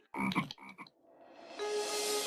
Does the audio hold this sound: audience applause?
no